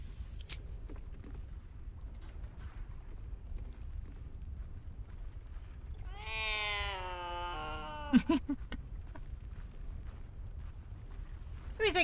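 Cat meowing in Baldur's Gate 3: one long, drawn-out meow around the middle with a couple of short sharp sounds after it, over steady low ambient rumble, no speech.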